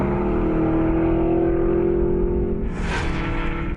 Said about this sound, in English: This is the Vantage S, a tweaked version of the already potent V8 sports car.